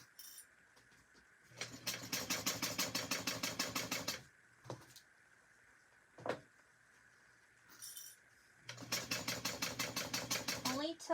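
A sewing machine stitches a seam with a 1/2 inch seam allowance in two rapid, rhythmic bursts of stitching. A quiet pause with small handling clicks separates them, and the machine sounds close and clear.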